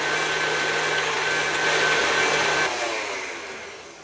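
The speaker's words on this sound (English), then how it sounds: "an 8-ounce package of cream cheese that was at room temperature in the mixer, and I need to mix that till it's nice and smooth" An electric stand mixer beats room-temperature cream cheese and butter for a vintage banana cake frosting, a steady close whir that slows and fades near the end.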